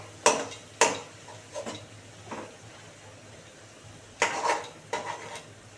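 Spoon stirring fish roe curry in a covered pot, a handful of sharp metallic scrapes and clinks against the pot in uneven bursts, with a faint sizzle beneath.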